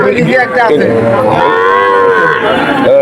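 Calves at a cattle market mooing loudly and close, one long drawn-out bellow overlapping others for the whole stretch, with little else audible.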